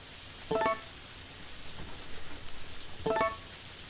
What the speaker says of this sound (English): It's the sound of the rain, I think. It's so peaceful.